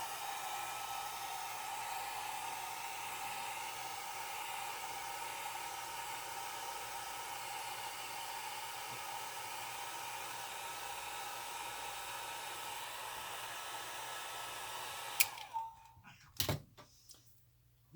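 A hair dryer on its low setting drying alcohol ink on paper, a steady close whirring hum that runs for about fifteen seconds before switching off, followed by a few faint handling knocks.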